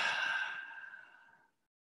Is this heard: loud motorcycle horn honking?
no